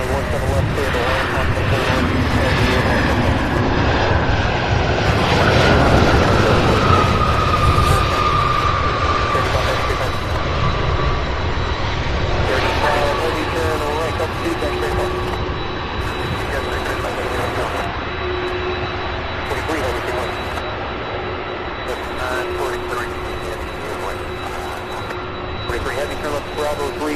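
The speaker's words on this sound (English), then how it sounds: "All right, so we have a 757 taxiing now." A Boeing 757 taxiing at Louisville airport gives a loud, sustained jet engine whine and rumble that swells and then slowly eases. A voice talks over the engine noise.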